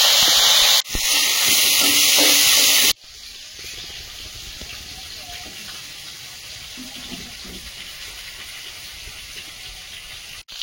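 Bitter gourd and five-spice seeds hit hot oil for a fish curry, starting with a loud, harsh burst of hissing that drops after a couple of seconds to a steady, softer sizzle.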